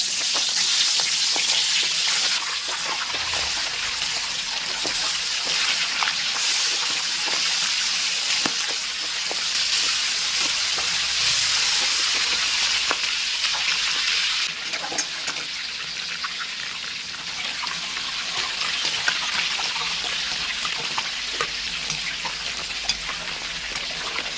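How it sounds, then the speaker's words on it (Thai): Shrimp deep-frying in hot oil until golden and crisp, a loud, dense, continuous sizzle with bubbling crackle that holds steady throughout, heard alone without any voices. "เราจะนำกุ้งของเราลงมาทอดให้เหลืองกรอบนะครับ"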